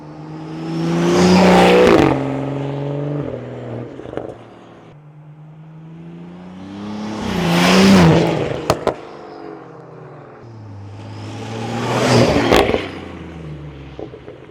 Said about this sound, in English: Some launch control ASMR, perhaps?